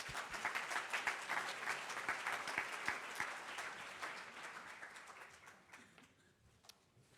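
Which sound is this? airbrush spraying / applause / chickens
applause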